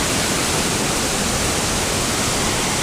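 Floodwater from Hurricane Irene rushes in a steady, dense, loud roar with no breaks, close by and alone.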